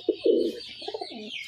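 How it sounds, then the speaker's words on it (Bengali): A male pigeon in a loft coos at a nearby female, giving a short burst of deep, throaty cooing followed by softer, rolling coos, close and clear. "নটটার ডাক দেখুন, দেখেছেন মাদিকে দেখে নটটার ডাক"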